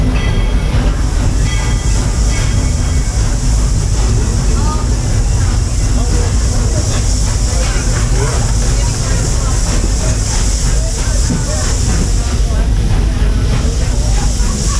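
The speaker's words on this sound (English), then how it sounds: "There are some who say that this steam train is a little old-fashioned" Walt Disney World Railroad steam train rolling steadily along with a continuous loud rumble, rhythmic rail clatter and hissing steam throughout, without pause.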